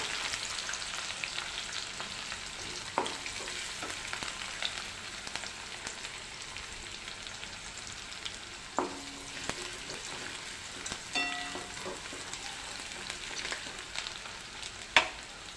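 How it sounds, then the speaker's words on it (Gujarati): Curry leaves and finely chopped onion fry in hot oil for Kathiyawadi vagharelo rotlo, giving a dense continuous sizzle like rain with a few spoon taps and scrapes, close and fairly soft, with no speech. "હવે આપણે મીઠા લીમડાના પાન એડ કરીશું અને આ ઝીણી સમારેલી ડુંગળી લીધેલી છે તે એડ કરી દઈશું"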